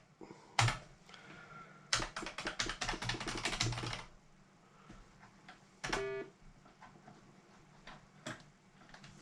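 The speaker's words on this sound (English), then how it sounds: "So, is my keyboard working?" Someone types on a Sinclair Spectrum +2A computer keyboard in a dense burst of rapid key clicks lasting a couple of seconds, with a few scattered single taps before and after, close and fairly clear.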